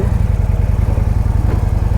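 A heavy Victory Vision Tour motorcycle engine idles nearby with a deep, steady, lumpy throb, loud and unbroken throughout.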